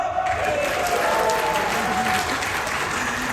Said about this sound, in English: make some noise by cheering, clapping, whatever works